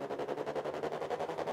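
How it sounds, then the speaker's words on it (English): EDM riser building tension, a sustained broadband swell with a rapid pulsing flutter, steady and loud throughout with no talking. "EDM, that one of the classic things that they do is they have those risers that sound like this"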